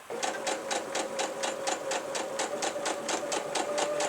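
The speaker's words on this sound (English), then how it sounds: "we're just going to literally stitch all the way round" Sewing machine stitching all the way around a sunflower trivet, a rapid steady run of mechanical needle beats with a constant motor whine, close and unbroken.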